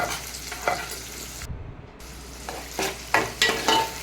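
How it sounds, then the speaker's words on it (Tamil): Onions frying in oil with mustard seeds and fenugreek for a fish curry, a close steady sizzle broken by scraping stirs and clanks of the spoon against the pan, with a brief silent gap. "அப்புறம் வெங்காயம் சேர்த்துங்க. வெங்காயம் நல்லா ப்ரௌனாக வதங்குற அளவுக்கு வதங்கட்டும்."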